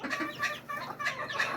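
Chickens in a backyard flock, with small silkie chicks among the grown birds, cluck and murmur in short overlapping bursts, close by and moderately loud.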